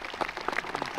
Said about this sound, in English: Let's give Autumn Fiesel and Ellie Johnson a round of applause.